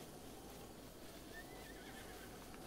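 A horse whinnies in Zelda: Breath of the Wild, a faint neigh over steady wind and ambient game noise, with no talking.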